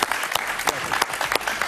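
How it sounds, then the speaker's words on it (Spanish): A studio audience on a Spanish-language political talk show applauds for Andrés Eloy Bueno, a short burst of brisk, separate claps close by. "Un aplauso para Andrés Eloy Bueno"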